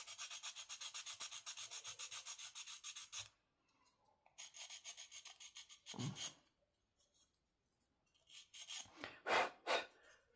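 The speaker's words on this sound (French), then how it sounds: "Et prenez une lime. Et vous rectifiez le petit truc qui est cassé ici." Steady rasping strokes of a hand file smoothing a broken spot on a small mouse figurine, coming in rhythmic bursts with short pauses and close to the listener.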